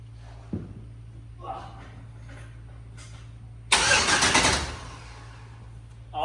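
A 1968 Chevrolet Impala engine, its starter wired straight from the battery, sits under a low steady hum before a loud, close burst of about a second of cranking that fades back down.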